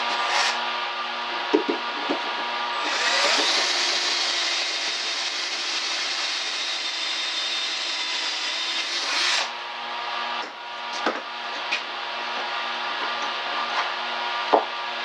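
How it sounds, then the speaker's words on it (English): A power drill whirs steadily for several seconds at high speed, boring pocket holes into wood with a kit drill bit, with short knocks and handling clatter before and after. "drill the hole with the drill bit that comes with the kit"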